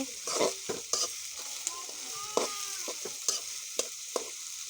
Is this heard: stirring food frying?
yes